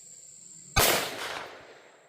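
A single sharp 10mm pistol gunshot during chronograph testing, a sudden loud crack with a short decaying tail, otherwise quiet.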